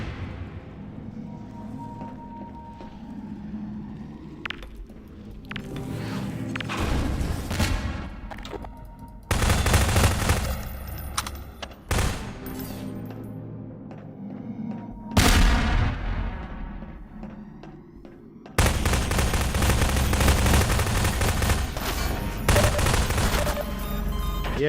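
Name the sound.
turret gunfire in a Half-Life map, video game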